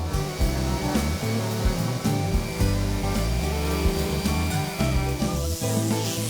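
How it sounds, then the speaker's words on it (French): A steady, loud motor whine of a vacuum cleaner runs continuously close by, rough and buzzing, with small bumps and knocks over it, while cleaning wood before varnishing. "On branche l'aspirateur comme ça"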